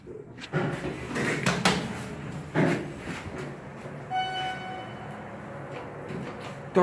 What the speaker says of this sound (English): Door close button works.